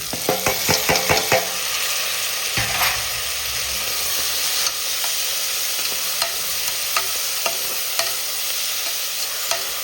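Onions and tomatoes sauté with a little salt in a pan for agathi keerai sambar, giving a constant loud sizzle with a quick run of scraping stir strokes at the start and occasional spatula clicks afterward.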